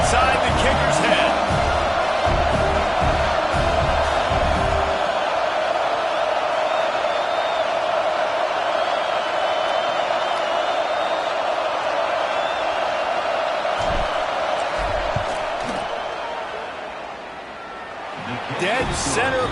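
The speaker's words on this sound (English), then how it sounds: "This crowd trying to do its part to get inside the kicker's head" Football stadium crowd at Penn State versus Texas A&M roaring and yelling during a field goal attempt, a loud sustained wash of noise that dips briefly near the end, with a commentator talking over it.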